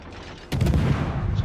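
Naval gunfire from a Hatsuharu destroyer in World of Warships: a quiet hum, then a sudden heavy boom of a salvo, followed by a lingering rumbling roar.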